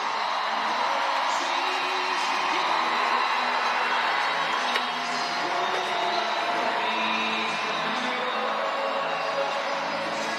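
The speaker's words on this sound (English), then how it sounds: "let's hear the roar of the crowd for Megan Wiggins" A stadium crowd at a Savannah Bananas baseball game at PNC Park in Pittsburgh roars and cheers continuously, a broad, distant wall of whoops and yells with no break.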